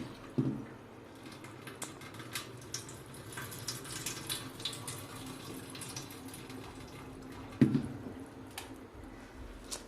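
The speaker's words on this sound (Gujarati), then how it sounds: "સાબુદાણા સરસ ધોવાઈ જાય ત્યારબાદ એમાં રહેલું પાણી બધું જ કાઢી લેશું" Water runs and trickles away from washed sago pearls as they are drained, a quiet, continuous splashy flow with a couple of sharper knocks, no voices.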